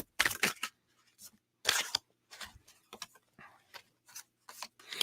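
Tarot cards are shuffled by hand in a series of brisk, close riffling and rubbing bursts separated by short pauses.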